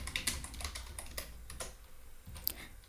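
Fingers type on a computer keyboard while writing Python code, producing a quick, close run of soft key clicks at an uneven rhythm, with no talking.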